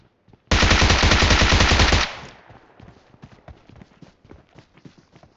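PUBG Mobile gunfire: a loud, rapid automatic burst lasting about a second and a half, then quieter scattered footsteps and movement sounds, with little or no talk.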